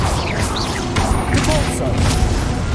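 Incendio fire spell cast in the Hogwarts Legacy video game, a dense burst of blazing, crackling magic layered with thumping, crashing combat effects that stay loud and steady throughout a short spell.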